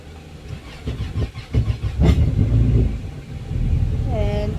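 A Yamaha 252XE jet boat engine cranking and starting during an oil change, a low rumbling turnover that settles into a steady idle, with a voice speaking over it.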